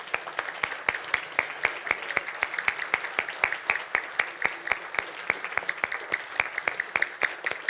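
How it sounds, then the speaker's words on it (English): A small audience at a student robotics competition applauds the event's sponsors with clear, evenly paced individual claps that stay steady and moderately close the whole time. "Very big round of applause for them, please."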